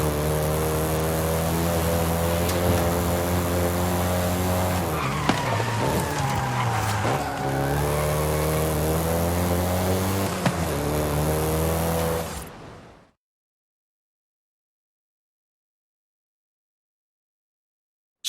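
Volkswagen Golf GTI engine in the Forza Horizon 5 video game, a loud steady engine drone that shifts pitch and revs before cutting abruptly to silence, with no speech.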